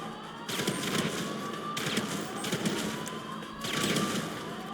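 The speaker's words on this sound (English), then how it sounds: "We're blindly throwing grenades." Muffled bursts of gunfire and grenade blasts in a GTA 5 Online heist firefight, several rattling volleys rising and falling over steady background din, fairly distant and soft.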